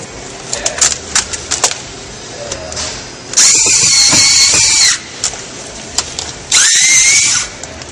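A power drill whines loudly in two steady bursts of about a second and a half each, drilling a hole while fitting an exhaust filler panel on a Chevy Corvette C6, with small clicks and knocks between.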